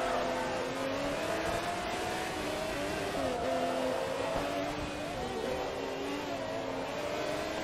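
Race car engine in Forza Motorsport 2, a Pagani Zonda R-class car droning continuously at high revs with shifting pitch as it is driven through corners, loud and steady throughout.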